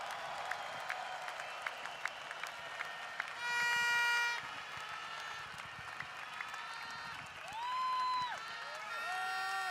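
Audience applause at a corporate event in Indonesia, fairly faint and continuous, mixed with sustained musical tones and synth swells that rise and fall over it.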